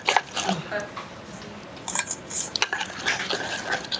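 A spoon stirs and scrapes cashew butter in a bowl, giving close, intermittent clinks and soft sticky scraping sounds in short bursts.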